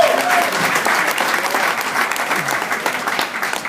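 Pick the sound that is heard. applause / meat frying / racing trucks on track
applause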